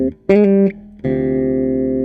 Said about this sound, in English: That's with just the standard reverb.